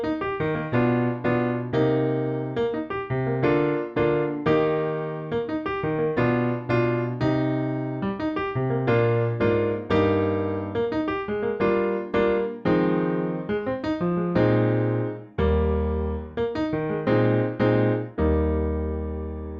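Solo piano plays the intro of a song, steady rhythmic chords with a clear melody line moving over low bass notes, close and alone without any talking.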